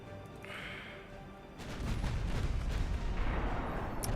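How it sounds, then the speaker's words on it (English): Warship naval guns firing in Ultimate Admiral Dreadnoughts, with a low rumble that swells into a loud sustained boom of artillery at mid-clip and rolls on to the end. "I guess go shoot at him so you can get all your guns on him."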